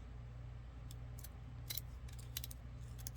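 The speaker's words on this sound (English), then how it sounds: "I'm just using my scissors here." Scissors snip a leaf shape from material for a pumpkin craft, giving a few quick, crisp clicks spaced irregularly over a low steady hum, close but quiet.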